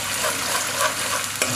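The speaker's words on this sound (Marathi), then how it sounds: "हलकंसं फ्राय करायचं म्हणजे स्मेल आला पाहिजे चांगला, करपलं गेलं नाही पाहिजे" Spices frying lightly in a pan over a low gas flame, a steady soft sizzle with faint stirring scrapes and one sharper clink near the end.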